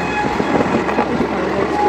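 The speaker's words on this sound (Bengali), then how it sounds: "ট্রেনটা অসাধারণ" Inside a moving train near Vijayawada, a loud steady rumble of wheels on rails with a continuous rolling roar, no voices.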